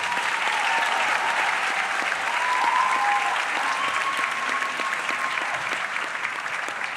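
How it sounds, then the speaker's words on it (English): A graduation audience at John J. Duggan Academy gives its speakers a sustained round of applause, dense and even throughout, with a faint sustained tone from the hall audible beneath the clapping. "Let's have a round of applause for them"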